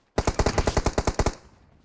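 Automatic gunfire in a shooting video game: a single rapid burst of about a dozen sharp, evenly spaced shots, loud and close, ending with a short decaying tail, with no talk over it.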